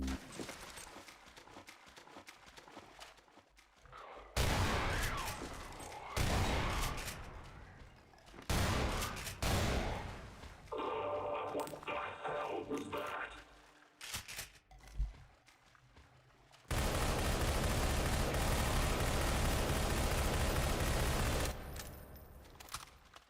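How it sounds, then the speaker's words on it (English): Gunfire in the shooter Entropy: Zero 2 comes in bursts separated by quieter gaps: several sharp volleys, then a long sustained stretch of rapid shots near the end, loud and close. "he heard the gunshot and he fired at where I shot from"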